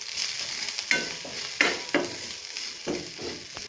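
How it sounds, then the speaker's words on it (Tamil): Black pepper, cumin and garlic sauté in a hot pan for paruppu rasam, with a steady close sizzle broken by several sharp spoon scrapes and clanks as they are stirred. "லைட்டாக 1 நிமிஷம் வதக்கிட்டு"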